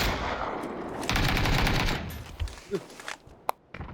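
PUBG video game gunfire: a dense burst of rapid automatic shots, then a few scattered single cracks and footsteps, with some background game noise and no clear talk.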